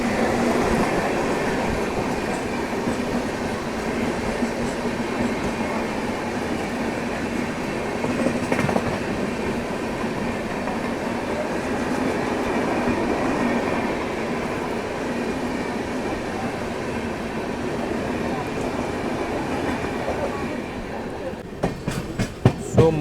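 Inside the Visakhapatnam–Mahbubnagar superfast express, running between Visakhapatnam and Duvvada, a constant rumble of wheels on track fills the coach with faint rhythmic clatter and a few knocks near the end.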